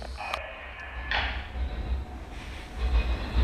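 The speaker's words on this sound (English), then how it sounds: "We got northbound CSX." Northbound CSX freight train rolling past in Marion, Ohio, a low rumble with metallic squeals and clanks from the cars, moderately near and building toward the end.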